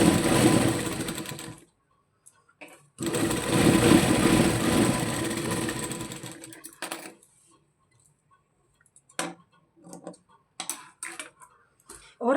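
A sewing machine stitches a fine seam on a baby frock, running in two close, loud bursts separated by a pause, then stopping into scattered ticks, taps and fabric handling, with no talk.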